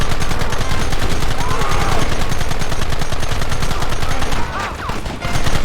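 A fierce shootout in Red Dead Redemption, with rapid overlapping gunshots forming a loud, close, unbroken barrage that thins briefly near the end.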